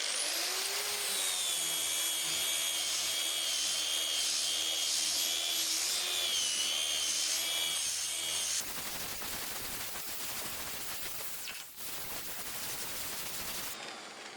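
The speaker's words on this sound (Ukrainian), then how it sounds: "беремо болгарку, площадку на болгарку, шліф-кружок та шліфуємо." A high-pitched angle grinder with a sanding disc whines and grinds against a wooden board, then shifts to a rougher, scratchier sanding noise that continues steadily to the end.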